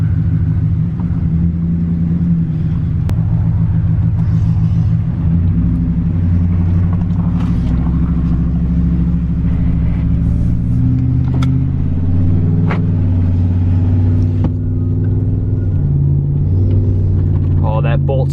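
Ram 1500 Hemi pickup with a newly installed 3600 stall converter idling loud and close, a deep steady rumble with slight rpm wavering, and someone talking over it.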